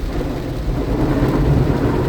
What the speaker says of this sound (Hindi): बड़ा जोर से बारिश हो रहा है, साउंड कितना आ रहा है पता नहीं।